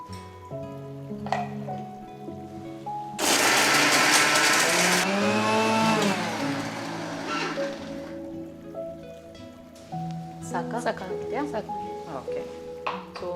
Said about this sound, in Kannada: ಮಿಕ್ಸಿಗೆ ಹಾಕೊಂಡು ರೆಡಿ ಮಾಡಿದೀವಿ